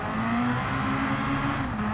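A race car in Gran Turismo 7 holds a steady, droning engine note in second gear, revving high and fairly loud, with a faint tire hiss underneath and no talking.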